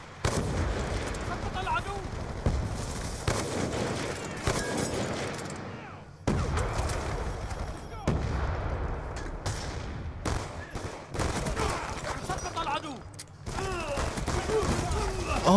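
Sniper rifle shots and other gunfire in a Black Ops 2 team deathmatch on the Yemen map, sharp reports repeating throughout amid game noise, with someone talking over them.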